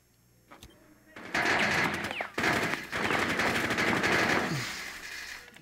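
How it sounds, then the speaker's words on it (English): Automatic gunfire from a Rainbow Six Siege match, loud rapid bursts that start after a quiet second and run almost continuously, with game sound effects mixed in and a voice talking underneath. "Shooting behind the shield."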